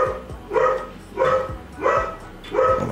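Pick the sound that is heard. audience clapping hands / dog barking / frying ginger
dog barking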